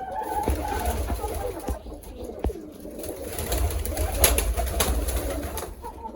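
Pigeons coo softly in repeated low murmurs, with occasional rustles and knocks in a noisy background.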